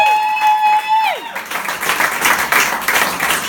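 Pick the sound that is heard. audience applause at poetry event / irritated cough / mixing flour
audience applause at poetry event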